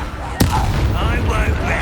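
Fire spell blasts in the video game Hogwarts Legacy: one sharp explosive crack followed by crackling, whooshing magical fire effects, loud and close with game background noise.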